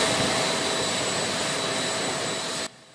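Jet engines of a China Airlines Boeing 777 airliner roar as a steady, loud broadband rush with a faint whine, holding for over two seconds before dropping off sharply near the end.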